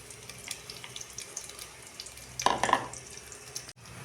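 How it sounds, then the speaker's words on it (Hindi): Onions dropped into hot oil in a cooking pot for achar gosht give a sudden close sizzle burst after a quiet stretch, then fade and cut off. "तो ऑयल मैंने ऐड कर लिया है। इसमें जाएगा प्याज।"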